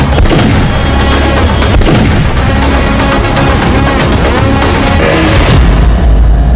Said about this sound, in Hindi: एक ताबड़तोड़ गोलियां चली और देखते ही देखते 2 वांटेड ढेर हो गए